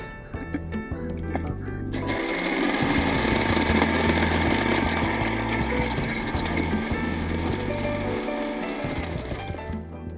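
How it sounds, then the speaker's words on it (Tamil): A kitchen mixer grinder blends bread, milk and condensed milk into a milkshake. A loud, steady motor whir runs for about eight seconds, starting and stopping abruptly. "இதை அப்படியே மிக்சியில் போட்டு நல்லா பிளெண்ட் பண்ணிடலாம்"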